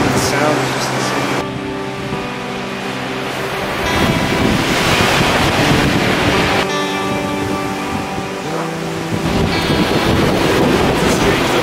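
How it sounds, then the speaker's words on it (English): Strong wind roars and buffets the microphone in loud gusts, with waves surging in the background and a person speaking at times. "It is incredibly windy right now. The wind makes it so eerie."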